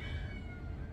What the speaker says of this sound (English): That's my cat. She knows I'm making chicken somehow and she's freaking.